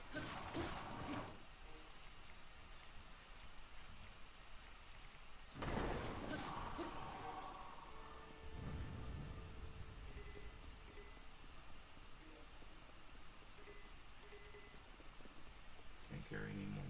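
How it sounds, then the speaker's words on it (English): Steady rainfall in Zelda: Breath of the Wild, a broad hiss running through the whole stretch with a brief louder burst of impact noise partway, no voices over it. "The rain will stop in just a couple minutes."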